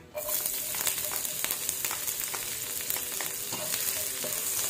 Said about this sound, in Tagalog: Lagyan natin itong garlic.